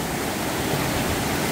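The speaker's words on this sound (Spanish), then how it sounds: "Oigan las piedras." A flooding river rushes loud and unbroken, a dense roar of churning water in which tumbling rocks would be buried, heard up close with no voices.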